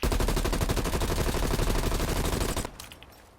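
Assault rifle in Call of Duty Black Ops Cold War firing a sustained rapid automatic burst for over two seconds, loud and close, then stopping with a brief fading tail.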